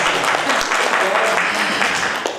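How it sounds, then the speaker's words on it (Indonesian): Applause from the audience at the installation ceremony of the PIKI branch in Cirebon, a steady wash of clapping lasting a couple of seconds, with voices mixed in underneath. "Tepuk tangan dulu untuk kita."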